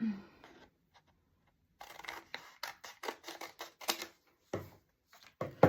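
Scissors snip through a paper bookmark along a traced line, a quick run of separate cuts and rustles after a pause, close and fairly clear.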